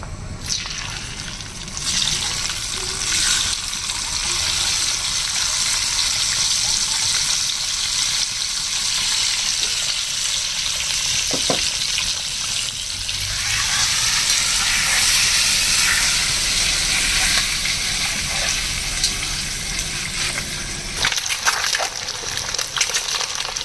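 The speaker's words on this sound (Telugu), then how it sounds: "ఎగ్స్ బాగా ఫ్రై అవుతాయి అన్నమాట" Eggs with turmeric frying in hot oil in a kadai pan, a steady loud sizzle with bubbling hiss that runs throughout, swelling and easing slightly, with no talk over it.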